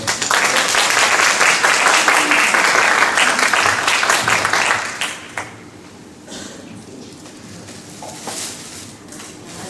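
An audience at a church seminar for school parents claps in welcome, a loud dense burst of applause for about five seconds that then thins to scattered softer clapping and room noise.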